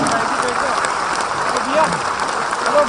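A standing audience at a Jat summit in Jaipur claps loudly for the Governor, a dense, continuous roar of hands close by with a voice faintly underneath.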